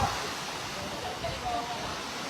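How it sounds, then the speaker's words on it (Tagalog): Fast floodwater rushes through a town street after heavy rain, giving a steady broadband roar like a torrent. It is continuous and fairly close, with faint voices underneath. "Sobrang bilis po ng tubig. Nadadala na yung mga sasakyan."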